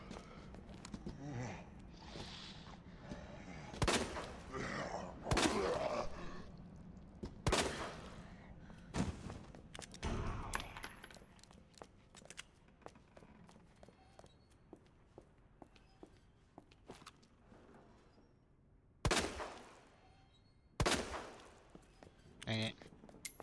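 Two or three sharp broadband cracks of video game gunfire stand out among scattered thuds and footstep-like knocks, with a player talking during part of it and a lower ambient bed between the shots.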